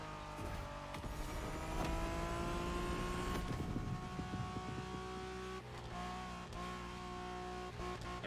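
A Honda sports car engine in the video game The Crew Motorfest drones and shifts pitch as it drives, with tonal whine and occasional rising revs, steady and close, without talk.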